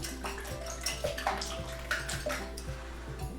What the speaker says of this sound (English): Start with 6 eggs and whisk them in a bowl.